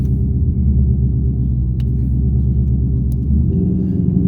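A car fitted with catless longtubes, an X-pipe and Borla mufflers drones with a loud, raspy, low exhaust rumble while cruising, a steady near sound running unbroken with no talk.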